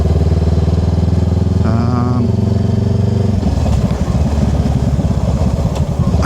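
A motorcycle engine runs steadily and loudly up close throughout, with a rough, throbbing low rumble and a brief rising whine in the middle, while someone talks over it.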